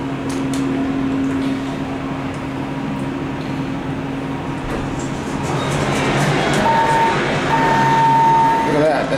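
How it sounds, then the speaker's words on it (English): A ThyssenKrupp hydraulic elevator in a former Sears building at Vancouver Mall hums steadily as it runs, a constant mechanical drone that swells slightly near the end, with a person talking over it. "ThyssenKrupp elevator."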